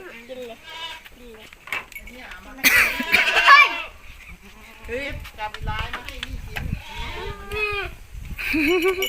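Goats bleat repeatedly and fairly close at a Thai goat farm during evening feeding with leucaena leaves, the calls overlapping with people talking and laughing nearby.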